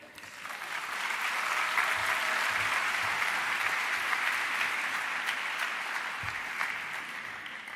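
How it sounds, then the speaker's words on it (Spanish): A large audience at the Naukas 2017 popular-science talks in Spain applauds a speaker taking the stage, a sustained, dense roar of clapping that swells and holds evenly, heard from within the hall. "Un aplauso para ella."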